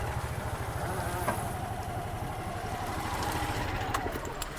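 A motorcycle engine runs steadily at mid range, a continuous chugging idle with a rhythmic low pulse and a little clatter that stays at an even level, with no voices over it.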